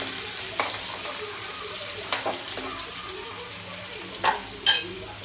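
Onion fries in already hot leftover oil on a high gas flame, a continuous soft sizzle with occasional scraping stirs and a couple of brighter clinks near the end, close by and without speech.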